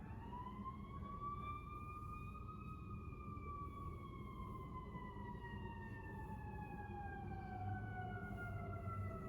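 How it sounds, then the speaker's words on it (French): An emergency vehicle's wailing siren passes outside, its rising and falling tones sweeping steadily and slowly drifting lower as it moves away, moderately loud over a constant low background rumble. "désolé pour les bruits de sirène si vous les entendez"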